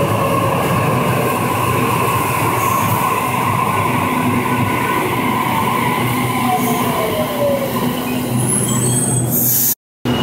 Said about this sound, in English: Waratah set, A56 is now departing platform number 1, City Circle service.